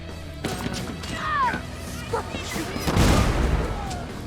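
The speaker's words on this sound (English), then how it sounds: "it turned out to be a firework that was fortunately pointing directly at Colt" Firework launching in the video game Deathloop amid combat noise, a whooshing launch with crackling bursts and bangs building toward a louder burst near the end, with a voice talking over it.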